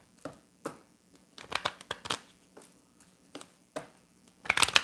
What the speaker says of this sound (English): Let me just shuffle again.